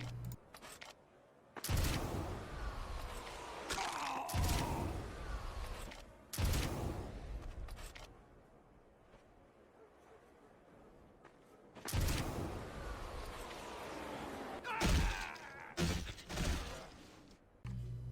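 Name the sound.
rocket jumping in Team Fortress 2, a video game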